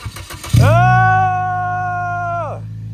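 A Dodge 1500 truck being jump-started cranks briefly, then its engine catches and settles into a loud, steady idle close by before cutting off near the end.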